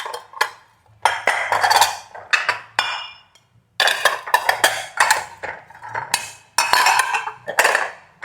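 Ceramic plates with assorted patterns clink and clatter loudly and close by as they are unpacked from a kitchen box, in repeated bursts of knocking and chinking separated by short pauses, with no voices.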